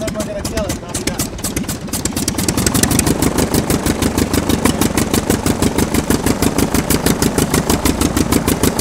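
A loud engine idles with a steady, rapid, pulsing chug that firms up and grows slightly louder after a few seconds, then holds an even rhythm close by.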